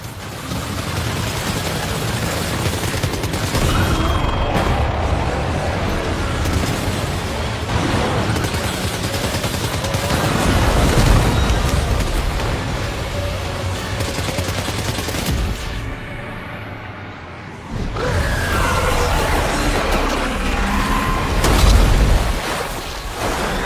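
Sustained heavy gunfire and explosions in the Death Stranding 2 video game, with dense machine-gun bursts and booming blasts rolling almost continuously at high volume, briefly easing midway before surging again.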